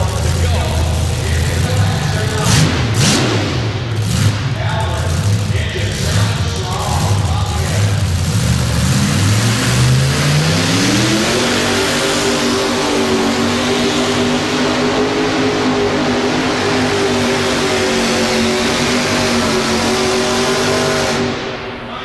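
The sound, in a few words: pulling truck engine revving during a truck pull run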